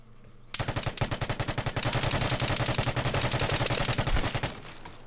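An RPK machine gun fires in the video game Vigor, a loud, rapid sustained burst of evenly spaced shots lasting about four seconds before cutting off.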